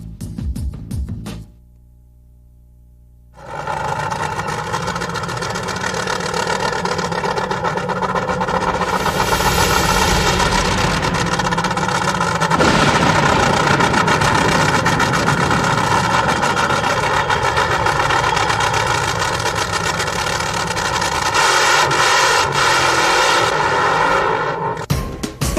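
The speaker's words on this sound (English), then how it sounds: "Behind us is the pink Top Fuel Dragster of the one and only Shirley Muldowney." A pink Top Fuel dragster, Shirley Muldowney's car, fires up after a short silence and settles into a loud, harsh, steady idle rich in harmonics that holds for over twenty seconds.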